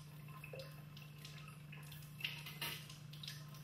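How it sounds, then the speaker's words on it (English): Tap water runs faintly over a polished metal microsection being rinsed after etching in a metallography lab, a soft, low splashing with a few brief louder spatters over a steady electrical hum. "Then he rinses the microsection thoroughly with water"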